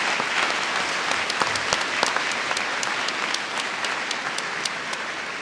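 Audience at a high school class of 2025 commencement applauding, a dense, steady burst of many hands clapping close and loud throughout, with a few sharper individual claps standing out.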